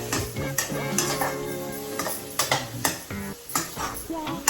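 Something being sautéed in a pan while halwa is made, a busy run of metal spatula scrapes and clanks against the pan over a sizzling bed, with faint talk underneath.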